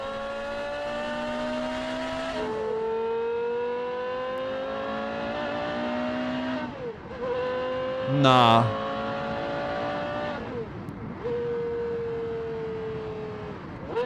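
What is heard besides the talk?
Carrera GT V10 engine revving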